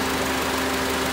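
Honda Civic engine idling during an AC recharge from a can, a steady loud droning hum with a constant tone over a brief moment.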